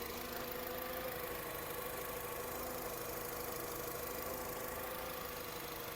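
A 2011 Volkswagen Caddy 2.0 gas/petrol engine idles steadily at close range, a low, even rumble with a faint mechanical ticking and no voices.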